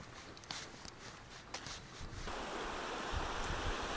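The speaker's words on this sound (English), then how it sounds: "Shame it's a little bit breezy." Gusty breeze blows through a valley on a bright day, buffeting the microphone with soft rushing bursts that give way to a steady, fuller roar of wind, faint and outdoors.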